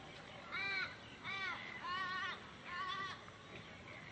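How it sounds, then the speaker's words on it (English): Strange, repeated bird calls with a warbling, wavering tone ring out at a coastal boat ramp at sunset, coming in about four bursts over steady background noise. "Those birds make weird sounds."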